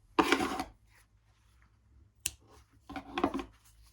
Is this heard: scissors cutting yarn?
yes